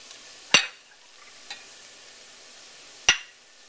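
Ginger, garlic and spices fry over cooked onions in a pan with a quiet, even sizzle, cut by two sharp spatula scrapes and one fainter tap between them.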